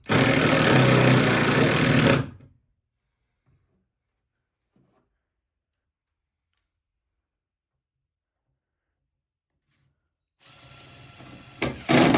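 A power drill whirs loudly for about two seconds, driving screws into a shower flange, falls silent for a long stretch, then starts up again briefly near the end.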